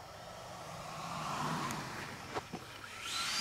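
An E-flite 80mm F-16 electric ducted-fan jet sweeps past low and slow with the throttle off, a faint rising airy whoosh that swells and fades, with a few light knocks near the end.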